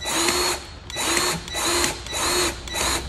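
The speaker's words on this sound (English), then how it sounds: "Now we'll pump some of this old grease out." Grease gun pumping old LM grease out of a Maserati Mistral clutch component: five rhythmic mechanical bursts, each lasting about half a second, with brief gaps between them, close and fairly loud with no talking.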